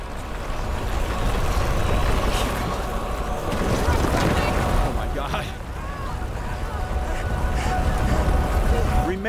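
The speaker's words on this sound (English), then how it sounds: "Waves is coming." Waves surge in A Plague Tale Requiem as a dense, continuous roar of churning water with a heavy low rumble that swells and eases steadily throughout.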